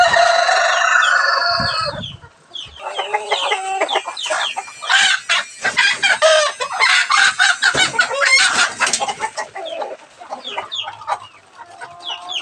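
Native chickens cluck busily while a rooster crows loudly at the start, the barnyard chatter continuing close and dense with a few pauses.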